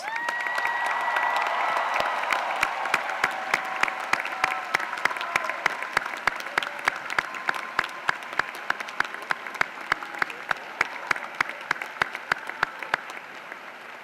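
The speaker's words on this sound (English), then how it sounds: "graduates, please show your appreciation to them with resounding applause" A large crowd at a spring university commencement breaks into sustained, resounding applause, dense clapping in a big venue that carries on steadily for the whole stretch without speech.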